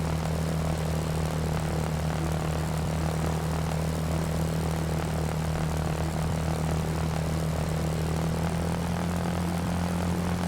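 Propeller plane engine in the PS2 game Secret Weapons Over Normandy, a loud, steady droning hum that holds unbroken for the whole stretch with no voices.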